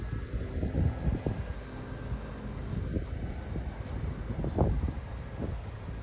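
Outdoor wind gusting around an open beehive, a rough, blustery rumble buffeting the microphone with a few louder thumps, and no talking.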